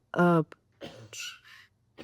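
A single throaty cough near the microphone, followed by a few soft breathy vocal sounds and a brief murmur.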